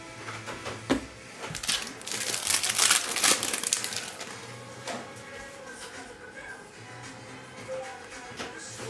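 A Panini Prizm football card pack is torn open with loud crinkling and tearing of foil wrapper, peaking mid-way, followed by softer rustling and handling of cards, with voices intermittently under it.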